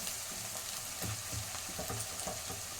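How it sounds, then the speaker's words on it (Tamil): Onions soften in a pan over a soft, continuous sizzle, with a few faint clicks from a spoon. It stays quiet and close, and no one speaks. "வெங்காயம் நல்லா வதங்குது"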